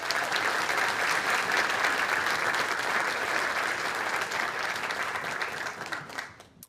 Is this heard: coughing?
no